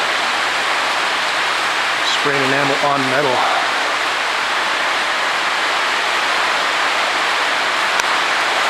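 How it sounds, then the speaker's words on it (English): Steady broadband hiss of rain heard inside an art gallery throughout, with someone briefly speaking over it near the start. "I can hear it starting to rain."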